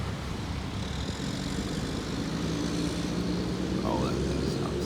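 Steady deep diesel rumble from a Mack MR garbage truck with a tag axle leaving a Waste Management yard at night, close and continuous, with someone talking briefly.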